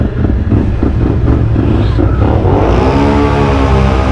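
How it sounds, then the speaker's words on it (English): A loud ATV quad engine roars and revs hard nearby in mud, rising in pitch as it accelerates, with rough, churning noise and no talking. "That quad's so loud."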